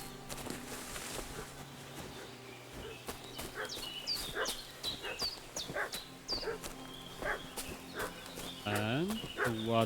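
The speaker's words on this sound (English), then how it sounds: "What's that dog making such a fuss about?" A dog barks repeatedly at a distance in Kingdom Come: Deliverance 2, amid village ambience with chickens and livestock, and a voice speaks partway through.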